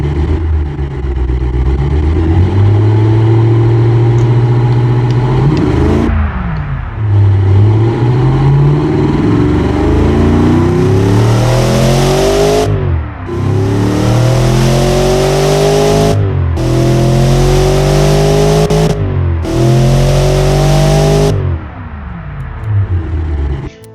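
A Cadillac 500ci V8 in the Automation engine-building game revs hard and loud, climbing repeatedly through rising pitch sweeps with sharp drops between them like gear changes, running continuously for the whole stretch without any voices.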